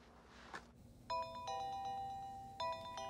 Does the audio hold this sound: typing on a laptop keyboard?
no